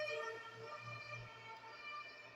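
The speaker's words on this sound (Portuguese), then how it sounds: "Ó, a ambulância passando lá fora, tá vendo?" An ambulance siren passes outside, heard faintly through walls as a steady wailing tone under a quiet indoor hum, with no talking.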